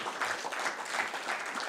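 Dense applause from a conference audience at a work summit, a steady wash of many hands clapping at moderate loudness with no voices over it.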